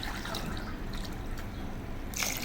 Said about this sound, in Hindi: फिर इसके बाद हमने 1 गिलास पानी एक्स्ट्रा डालना है इसमें।